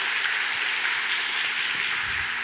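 A church congregation at a Sunday service claps together in a dense, steady round of applause that fills the whole moment.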